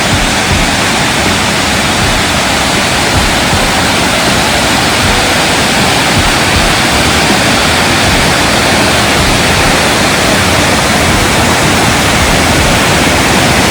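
Steady, dense rush of a waterfall at a Thai forest swimming spot, loud and continuous with no pauses, the roar filling every band evenly and no voices over it.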